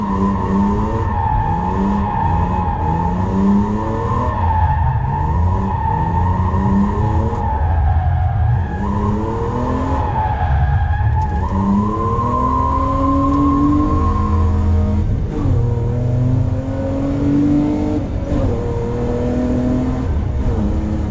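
BMW E30 drifting around a roundabout on dry pavement, tires squealing loudly and continuously for about twenty seconds while the engine revs and wavers underneath, close by and steady.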